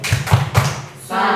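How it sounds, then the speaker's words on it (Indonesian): An audience gives a rhythmic salute clap, a few loud thumping claps in quick succession, close and dry, followed by a brief murmur of voices. "Kita kasih tepuk salut"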